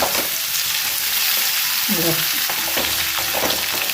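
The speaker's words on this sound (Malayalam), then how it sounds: "മീഡിയം ഫ്ലെയിമിൽ വെച്ച് നന്നായി ഇളക്കി വെക്കുക." Masala for a green mango chutney frying on a medium flame, with a continuous close sizzle and intermittent scraping stir strokes of a spoon in the pan and no talk.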